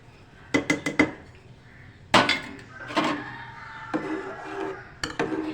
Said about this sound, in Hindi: अब हम इसमें डालेंगे इमली,